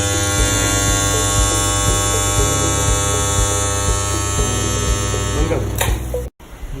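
An Electroweld strip ring butt welding machine used for rods and rings hums loudly and steadily with a strong electrical buzz, then finishes in a sharp burst and brief cutoff near the end; nearby with no talking.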